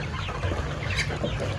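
Chickens cluck close by in short, overlapping, busy calls, a brief burst of farmyard poultry with no talk.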